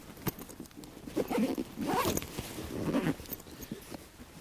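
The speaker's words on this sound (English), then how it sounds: "So right, we'll just zip this back up now." A zipper closes on a K&F Concept camera rucksack in a few quick, scratchy pulls, close up and fairly quiet, with small handling rustles in between.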